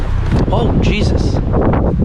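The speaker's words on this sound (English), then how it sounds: "It's so windy out." Strong wind buffets the microphone outdoors, a loud continuous roar with gusty rustling, while a person talks over it.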